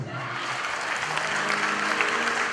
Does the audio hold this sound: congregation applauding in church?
yes